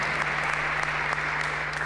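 Steady applause from a church congregation fills the space, even and sustained, with a low electrical hum running underneath throughout.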